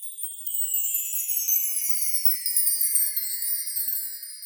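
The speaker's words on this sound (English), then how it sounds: "The mark tree is a percussion instrument consisting of a bunch of small chimes and sounds like this." A bright, shimmering cascade of tiny chimes sweeping downward, soft and continuous, with no other sounds around it.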